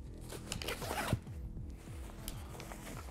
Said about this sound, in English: I'm gonna zip these back on.